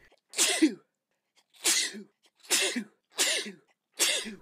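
Five sneezes in a row, each a sharp, close burst with a breathy release, separated by short pauses of silence.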